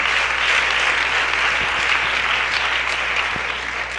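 Loud, steady applause from a crowd at a live community event in Tzucubal, Nahualá, a dense continuous wash of clapping with no voices over it.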